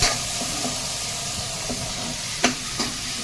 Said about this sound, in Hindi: दाल के लिए तड़का अच्छे से फ्राई कर लिया है